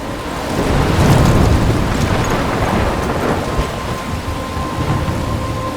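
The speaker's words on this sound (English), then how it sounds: "I'm trapped in a storm." Heavy thunderstorm with steady rain in the video game Life is Strange, a dense rush of rainfall under rolling rumbles of thunder that stay loud throughout with no talk.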